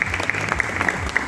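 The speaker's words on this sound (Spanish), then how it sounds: "Un aplauso, por favor." Brief burst of applause from a studio audience on a Spanish-language TV program, dense clapping with a few sharper claps, close and steady for just over a second.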